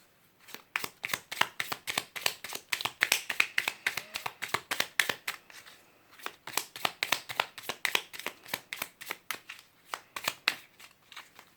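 Tarot cards are shuffled close up in a steady run of crisp riffling slaps, keeping up a rapid rhythm with only a brief pause in the middle.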